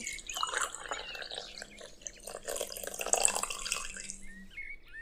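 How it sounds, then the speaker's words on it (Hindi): Water from a bucket splashes and pours onto plants, a close, irregular sloshing with drips and patters that rise and fall over a few seconds, with no talk over it. "मैं ऐसा करती हूँ एक बाल्टी पानी डाल ही देती हूँ"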